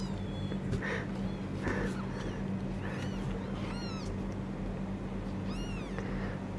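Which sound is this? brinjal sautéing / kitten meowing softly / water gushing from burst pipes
kitten meowing softly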